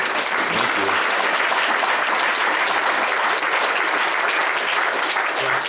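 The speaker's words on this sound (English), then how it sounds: "Let's give another big round of applause." A round of applause from the audience at a community sustainability summit, dense and loud, sustained evenly without any break.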